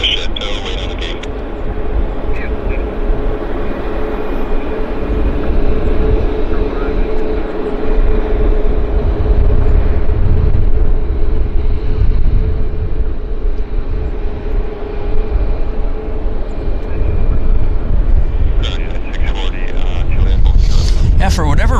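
Boeing 737 Max airliner taxiing at Vancouver airport, a steady low engine rumble and whine that holds for the whole stretch, with a faint tonal hum riding above it.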